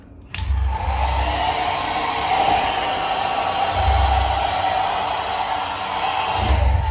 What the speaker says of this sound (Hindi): वॉशरूम में यहाँ पे हेयर ड्रायर